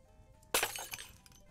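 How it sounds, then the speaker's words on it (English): Glass shatters in the video game Need for Drink: a single sharp crash bursts out of near-silence, followed by a second of tinkling, scattering shards that fade quickly. "There's a bunch of broken glass in there."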